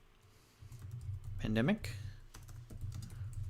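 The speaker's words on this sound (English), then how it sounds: "I always make all these typos when I'm typing on camera" Keys clatter on a computer keyboard in a classroom-style setting, soft taps running steadily beneath a brief spoken word and light background hum.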